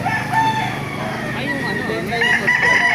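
SBR-bloodline gamecock roosters crowing at a rooster market in Baliuag, Bulacan, amid a noisy crowd of voices, several drawn-out calls overlapping with chatter and general background clamor.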